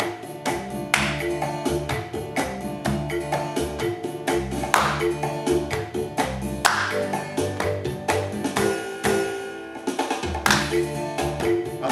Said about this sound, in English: I want you to do the white notes clapped and the black notes on your knees